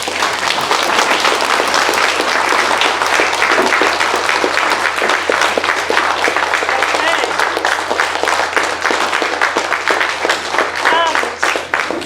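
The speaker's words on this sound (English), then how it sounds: "So come give everybody a huge round of applause" A large audience applauds student presenters at a school innovation competition final, a dense, loud, sustained wash of clapping that lasts the full stretch with a few voices faintly mixed in.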